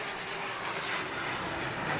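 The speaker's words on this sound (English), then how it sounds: "That's the roar of the Sukhoi 30s" Three Sukhoi Su-30 MKI fighter jets fly over Rashtrapati Bhavan during the Republic Day 2022 closing ceremony, giving a steady, broad roar that swells slightly toward the end with no voices.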